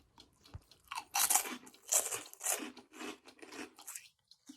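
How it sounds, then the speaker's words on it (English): Crunchy food that has been air-fried briefly at high heat is bitten and chewed close up, giving a series of crisp, uneven crunches with no talking. "Listen to that crunch."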